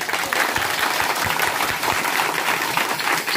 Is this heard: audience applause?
yes